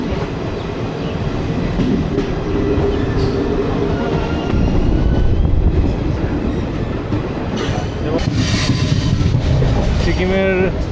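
A passenger train on the new Cooch Behar to Siliguri line rumbles steadily along the rails, with continuous wheel noise, clatter and a brief squeal near the end, heard loud and close from inside the carriage.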